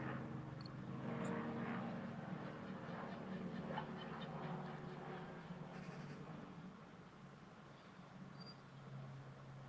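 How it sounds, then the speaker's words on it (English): A low-flying aeroplane passes overhead, its broad engine rumble building early and then slowly fading across the span, with faint indoor clatter in the foreground. "That's a low aeroplane, isn't it?"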